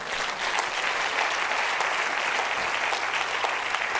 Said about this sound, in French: acclamons Jésus pour ce qu'il fait.